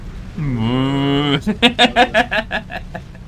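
A human voice imitates a cow mooing for a game unit called the flying cow: one drawn-out, loud, close moo, then a quick series of short rhythmic moo-like grunts.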